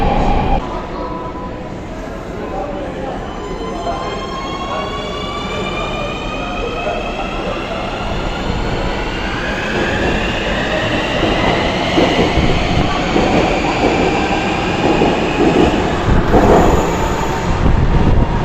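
A Nuremberg U-Bahn subway train rumbles loudly at close range, with rising and falling electric motor whines and steady rail noise throughout.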